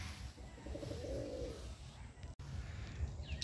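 Pigeons with feather-covered feet, lined up at a forest sanctuary, give a soft run of low coos near the start amid steady outdoor background noise.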